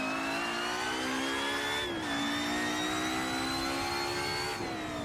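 A Mercedes 190E 90s DTM race car at Zandvoort in Assetto Corsa revs hard, its engine tone climbing steadily, dipping at two quick gear changes and climbing again, loud and continuous with no talk.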